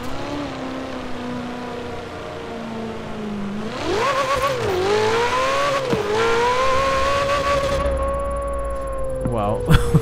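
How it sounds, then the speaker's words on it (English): Car engine in the Forza Horizon racing game, a steady drone that climbs in pitch as it accelerates toward a long jump, then holds at high revs before a brief landing thump, loud and continuous. "I mean, this car's pretty quick too."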